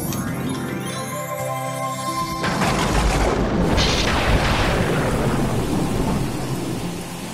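Loud rumbling thunder rolls in over heavy, steady rainfall, the rain continuing to hiss after the boom fades.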